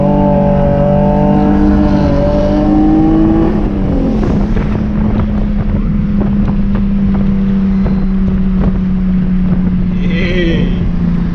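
A BMW E46 engine drones loudly while street drifting in the rain, a revving tone that drops and settles into a steady hum beneath heavy wind noise, with a voice briefly near the end.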